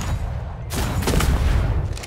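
Cannon fire in the pirate sailing game Atlas, a loud booming burst that swells into a dense, sustained rumble of blasts with no talking.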